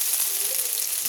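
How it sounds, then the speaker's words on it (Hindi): Chopped onion dropped into hot coconut oil in a kadhai, giving a steady, bright, close-up sizzle and crackle that holds without pause. "गरम हो गया, अभी कटा हुआ प्याज डालना"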